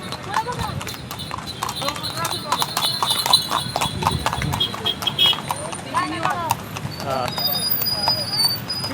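Horse hooves clip-clop in a steady rhythm during a ride, close and fairly loud, with a brief whinny and people talking over the hoofbeats.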